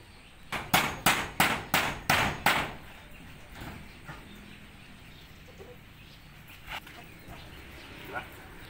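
Six sharp hammer blows ring out in a quick, even series as a chicken roosting pole is built, then a few scattered fainter knocks follow over quiet background.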